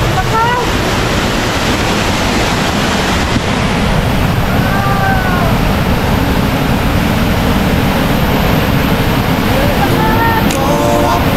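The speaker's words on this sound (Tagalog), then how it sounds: "Eto na ang falls!" Imugan Falls pours with a loud, continuous roar of rushing water, a dense steady wash close by, with faint voices or whistles briefly rising above it.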